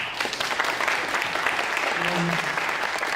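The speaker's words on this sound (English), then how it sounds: "a big round of applause" Audience applause after senior creative writing students read their work, a full, steady clapping that runs throughout at close range, with a brief voice sounding faintly underneath midway.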